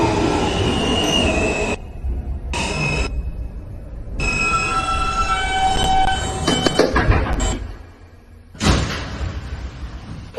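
A New York subway N local train runs along the Broadway Local line, loud and close. Rumble and rattle are broken by sharp pauses, with wheel squeal and a braking surge near the end.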